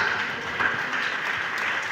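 A church congregation claps in steady, even applause during a 1978 Tamil religious sermon, a brief, moderately loud patter with no voices over it.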